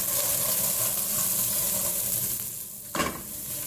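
Onions fry with a steady sizzle in a hot pan, then the sound thins briefly before a soft thump as corned beef goes in and the sizzling resumes.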